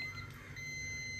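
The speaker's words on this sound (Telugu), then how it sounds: "చూసారు కదా, బజర్ సౌండ్ వస్తుంది కదా" A multimeter's continuity buzzer sounds as a faint, steady high-pitched tone for the whole moment while a Crompton water heater is being tested.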